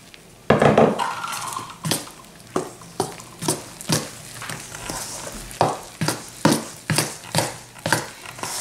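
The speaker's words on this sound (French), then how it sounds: "je vais mettre progressivement ma farine dans ce mélange. En mélangeant à la cuillère." A spoon scrapes and clacks rhythmically against a bowl as flour is stirred into a warm-water yeast mixture for focaccia buns, each stroke a distinct knock, close and steady.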